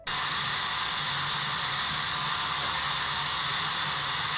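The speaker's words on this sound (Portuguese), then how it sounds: "Quando você coloca a sua panela de pressão para cozinhar e ela pega a pressão, ela faz um barulho, que é esse aqui." A pressure cooker reaching pressure, giving off a loud, steady, continuous steam hiss that starts abruptly and holds unchanged.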